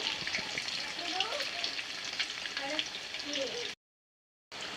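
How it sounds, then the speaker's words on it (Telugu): Chicken frying in hot oil in a home kitchen while making Kuwaiti-style majboos biryani, a steady close sizzle and crackle running throughout with voices talking over it, then a brief break in sound near the end. "ఫ్రై చేసుకోవాలి ఆయిల్ చికెను"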